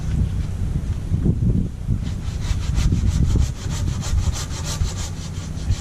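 A hand pruning saw cuts through a tree branch outdoors with close, loud, rhythmic rasping strokes. The strokes speed up into quicker back-and-forth pulls, with light wind noise on the microphone and no talking.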